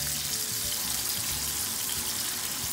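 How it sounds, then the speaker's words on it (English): Tuyo, small dried fish, sizzling in hot oil in a pan, a steady, dense crackle close up that runs on without pause. "we're just frying these tuyo, and then we're gonna descale this later."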